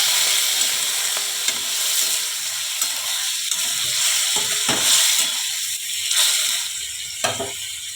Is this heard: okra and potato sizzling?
yes